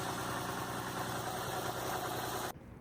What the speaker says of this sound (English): the idle speed of this vehicle is 1200 RPM